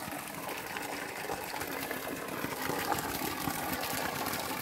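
Steady running spring water gushes without pause, a continuous broadband rush close by with no voices.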